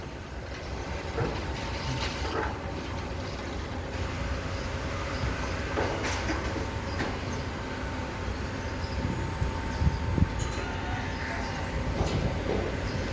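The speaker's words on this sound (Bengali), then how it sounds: "ট্রেন স্টেশন কিন্তু একটা অন্যরকম জায়গা" A train at Saraburi railway station in Thailand gives a steady, fairly loud rumble with faint rattling clicks, holding throughout with no talk.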